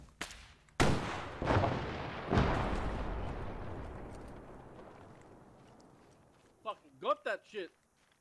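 A shoulder-fired rocket launcher in a military video game fires with heavy backblast: several loud, close blasts in quick succession, each trailing into a long rumbling decay, followed by brief shouted speech.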